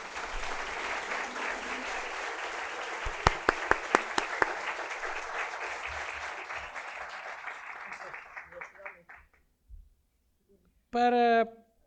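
Sustained audience applause welcomes a speaker at a Prison Insights talk, steady dense clapping with a few sharp louder claps, tapering off before a voice speaks briefly at the end.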